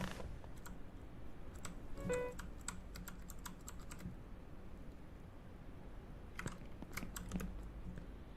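Keys clacking on a computer keyboard during Only Up gameplay, sparse irregular clicks in small bursts separated by quiet gaps, close but soft.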